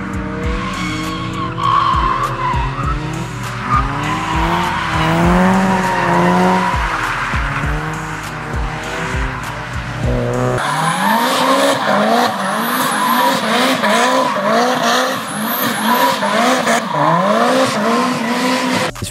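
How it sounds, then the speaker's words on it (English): A Mazda Miata spins through a full 360-degree drift, tires squealing and skidding loudly and continuously with engine noise underneath, the pitch sliding up and down as it rotates. "This guy in a Miata does a 360 and it's really smooth."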